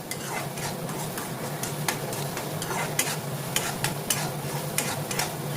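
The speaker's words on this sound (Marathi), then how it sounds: "चला मग आता आपण कांदा परतून घेऊया." Onion sautéing in a pan for a spicy sev bhaji, a steady close frying sizzle with repeated light metallic taps and scrapes of a stirring spoon against the pan, no voices.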